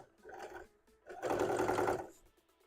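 A sewing machine stitches up a Greninja hat, running in two close bursts: a short whirring run, a brief pause, then a longer, louder stretch of rapid stitching that stops abruptly.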